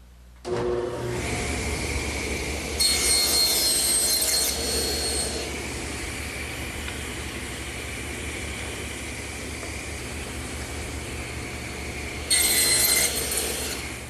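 A table saw cuts wood held upright in a tenoning jig, with a steady loud motor whine and two brighter, harsher stretches as the blade bites through the workpiece, then spins down.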